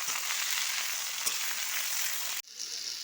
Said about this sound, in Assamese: এয়া চাওক তিতা কেৰেলাখিনি সিজিব ধৰিলে আৰু এয়া আৰু অকণমান ভাজিম